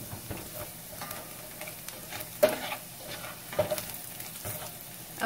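Shallot sautéing in butter in a pan, a steady low sizzle with occasional soft stirring knocks, close but fairly quiet.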